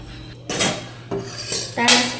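Cooking pots, including a wok-style kadai, and dishes handled for washing, with several close scraping and clattering bursts of metal separated by short pauses.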